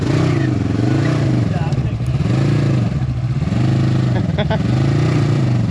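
A diesel engine in a Toyota rock buggy revs loudly and close by in repeated rising and falling surges, with a steady throaty drone between throttle blips.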